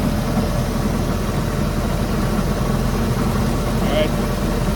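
A 2008 Bayliner 185 boat engine idles steadily with a constant, loud, low rumble throughout, with no notable change in rhythm.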